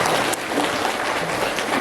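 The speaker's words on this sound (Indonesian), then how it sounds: "Boleh saya dengar tepuk tangan semangat dari kita." Parents and teachers at an education seminar burst into brisk, enthusiastic applause, a dense wash of clapping from a nearby crowd with no talk over it.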